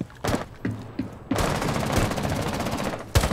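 Gunfire in the Rainbow Six Siege video game: several sharp shots break out, then a dense sustained burst of automatic fire, followed by another short volley, loud and close.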